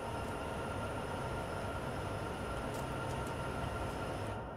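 A locomotive driving in Train Simulator, a steady low rumbling drone with a faint high whine and a few brief squeaks, continuous and even throughout.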